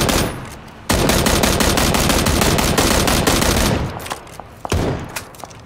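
Rapid automatic gunfire in the video game Battlegrounds rattles in a long continuous burst, then a few scattered shots follow, loud and close, with no speech.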